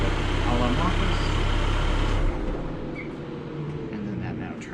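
Idling direct-injection engine of a 2021 Mercedes-Benz GLB 250, a steady low rumble that drops in level partway through and settles quieter, with faint speech-like sounds mixed in.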